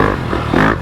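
Yamaha YZ250FX motocross bike with a 270 big-bore kit and stage 2 hot cams, its engine droning steadily on throttle with a brief surge, close and loud with some clattering.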